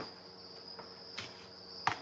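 Baby crickets newly placed in bins give a steady, high-pitched chirring trill that runs throughout, with a few soft taps and clicks close by.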